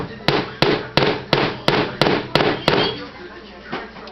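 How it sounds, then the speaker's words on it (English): Eight sharp hammer taps on a nail at a steady, even rhythm, loud and close, followed by a couple of fainter knocks. "I'm just giving it a few taps to start my hole."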